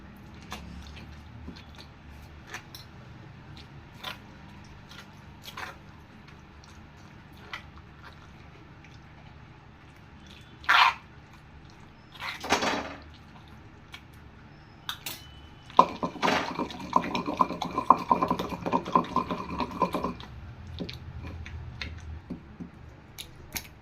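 Tomato chutney is pounded by hand, with scattered soft thuds and squishes and then a stretch of busier wet mashing and scraping, moderately close, no talk.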